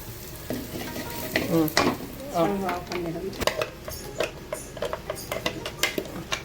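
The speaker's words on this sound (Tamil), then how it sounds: "அதே கடாயில் எண்ணெய் சேர்த்து கொஞ்சோட கடுகு போட்டு ரெண்டு உளுத்தம் பருப்பு போடுங்க" Mustard seeds and urad dal crackling in hot oil in a kadai, with close sizzling, sharp seed pops and spoon clinks against the pan. A voice is heard briefly in the middle.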